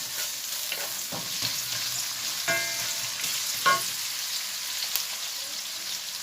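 Onion and five-spice (panch phoron) sizzle steadily in hot oil, a close, even crackle with a few louder stirring clicks and scrapes scattered through.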